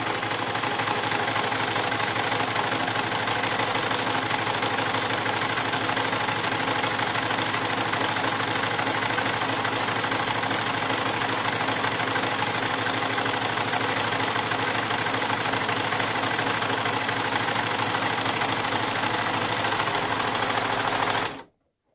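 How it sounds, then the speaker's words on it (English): A serger sewing machine runs continuously along a fabric edge while making a scrub hat, a fast, even, close mechanical whirring and clatter that stops abruptly at the end. "I'm just going to go down and serge the edge"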